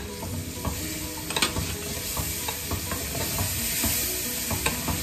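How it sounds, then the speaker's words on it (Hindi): Chicken being stirred in a pan with red chilli, dried coriander, turmeric and salt, a continuous close sizzle of frying with scattered scraping and knocking of the spoon against the pan. "लाल मिर्च, खुश्क धनिया, हल्दी, नमक और जो इंग्रेडिएंट्स मैंने बताए थे वो इसमें डाल देने हैं और इसको मिक्स"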